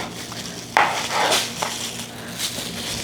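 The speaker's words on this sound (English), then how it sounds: "I'm going to cut it in half lengthwise. Put it in a bowl and cut this one too." A knife cuts pieces of char siu pork in half lengthwise on a board, giving a sharp knock followed by soft scraping and a few lighter taps amid kitchen clatter.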